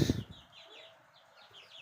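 Soft, repeated clucking and peeping from young Tiger-breed chicks, a brief louder burst at the start, then light chirps continuing quietly.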